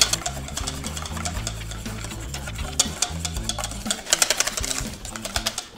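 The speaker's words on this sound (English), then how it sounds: "Now we've got the rest of our oil to go in, and pretty much in a steadier stream." Oil goes in a steady stream into homemade mayonnaise while a whisk beats it close by. The strokes come in a fast, even rhythm and turn sharper and more clipped toward the end.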